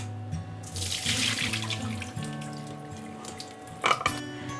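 Buckwheat rinsed under a running kitchen tap, water pouring and splashing steadily into a sink close by, with shifting tones as the grains are stirred and a brief louder splash near the end.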